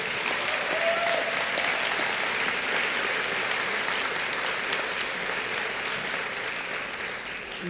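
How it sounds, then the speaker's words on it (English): A large graduation audience applauds in a broad, continuous wash of clapping that holds steady and fills the hall throughout. "give her a round of applause"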